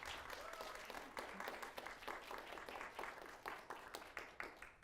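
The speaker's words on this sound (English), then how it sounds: "can we give a round of applause to our" Audience applause at a book talk on authoritarian journalism at LSU, steady clapping from a room crowd sustained for about five seconds, fairly faint and distant.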